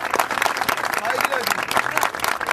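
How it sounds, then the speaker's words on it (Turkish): A street crowd claps in dense, continuous applause at an outdoor performance, with voices talking through it. "Saygıyla alkışlıyorum."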